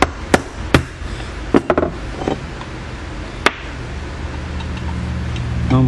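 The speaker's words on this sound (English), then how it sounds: "Gently tap it." Light metal taps of a small socket against a part of a 1971 Camaro power steering pump during a rebuild, a few sharp knocks scattered over quiet workshop background.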